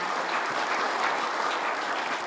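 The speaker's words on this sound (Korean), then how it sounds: "여러분 큰 박수로 축하해 주시기 바랍니다." Steady applause from an audience at an awards ceremony fills the whole stretch, dense and even clapping with no pauses.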